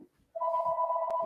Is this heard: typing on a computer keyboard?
no